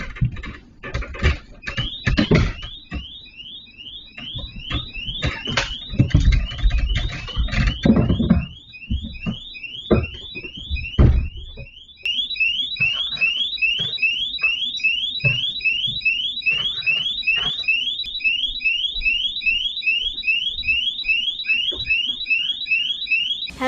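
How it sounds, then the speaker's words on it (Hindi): A burglar alarm in a judge's house, caught on CCTV, rings loudly in rapid repeating electronic bursts that run steadily through the second half, with thumps and clatter of movement beneath the start. "अचानक जोर जोर से अलार्म बजने लगा।"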